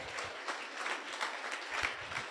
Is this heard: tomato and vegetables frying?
no